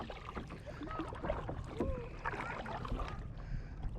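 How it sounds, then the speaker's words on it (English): A boat being paddled out on Quemahoning lake, with soft water swishes and dripping splashes over faint wind noise, quiet and close, and no talking. "we're just getting paddled out here"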